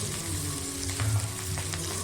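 Chicken liver frying in a pan for a chilli liver dry, stirred now and then; a steady close sizzle with faint scraping, no voices.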